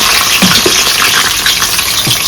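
Small onions fry with fenugreek in plenty of hot oil for a dried-fish curry, making a loud, continuous sizzle broken by a few brief stirring scrapes close by.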